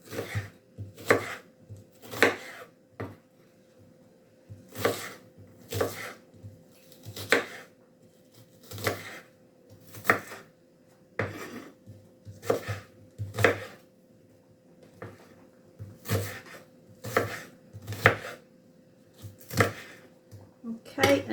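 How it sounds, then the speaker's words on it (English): A knife chops a red onion steadily on a cutting board, quick bursts of knocks with brief pauses between them, close and fairly loud. "Chopping the other red onion up now."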